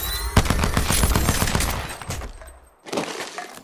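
Sustained automatic gunfire from an Apex Legends match, loud and dense rapid bursts through most of the span, pausing briefly before another burst resumes near the end.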